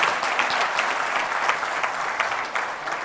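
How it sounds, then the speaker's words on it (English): A seated audience at a formal foundation day and management awards ceremony gives awardees a sustained round of applause, many hands clapping steadily at moderate loudness with no talking. "May I request you all to please once again give a big round of applause for all our distinguished awardees."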